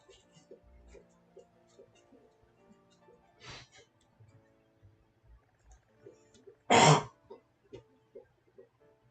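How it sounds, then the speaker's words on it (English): A person clears their throat a few times, with one loud, harsh rasp standing out among quieter murmurs and hums. "you can't clear your throat 100 times either like this"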